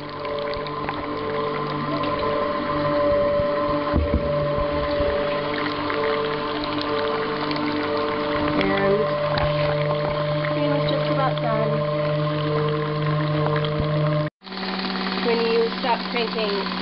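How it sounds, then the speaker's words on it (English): Manual centrifugal cream separator rated at 50 litres per hour being hand-cranked, giving a loud, steady whirring hum with rising tones and fine ticking clicks, briefly cut off near the end before it resumes. "Cranking, you'll hear a clicking sound. That's normal."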